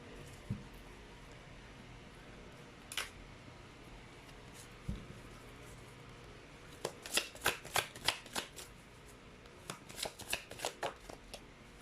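Tarot cards shuffled by hand, quiet scattered riffles at first, then a dense burst of rapid flicking and slapping, a pause and another flurry; no talking.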